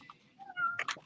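A pet cat gives a short rising meow ending in two quick higher chirps, close and fairly quiet indoors, heard alone.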